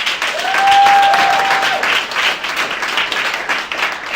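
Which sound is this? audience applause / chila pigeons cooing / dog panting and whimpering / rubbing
audience applause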